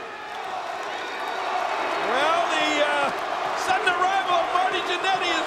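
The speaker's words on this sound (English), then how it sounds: "you can hear this crowd" Large wrestling arena crowd at WrestleMania 22 roaring and cheering during Mr. McMahon versus Shawn Michaels, a sustained loud wash of voices with whistles and rising shouts, with a commentator's voice audible over it.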